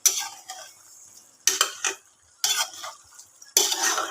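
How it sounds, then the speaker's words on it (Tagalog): A spoon stirs a simmering Filipino pork and tofu stew with vinegar in a pan, making four separate scraping sweeps against the metal, close and clear, with quiet moments between them. "Tignan natin siya guys haluin."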